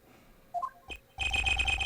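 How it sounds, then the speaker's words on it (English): In Apollo Justice: Ace Attorney, a few short game chimes and a click are followed by a telephone ringtone that trills steadily and loudly at close range. "Looks like Prosecutor Gavin is on the phone."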